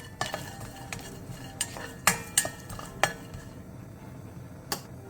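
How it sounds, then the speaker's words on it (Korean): Ten dried stock anchovies are stirred in a pot over high heat, giving sparse, sharp scraping clicks of a utensil against metal, close and fairly quiet. "냄비에 육수용 멸치 10마리를 넣고 센 불에서 3분 정도 달달 볶아주세요."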